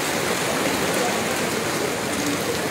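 In Chittagong, heavy rain falls in a constant, even hiss, with rushing water close by and no breaks.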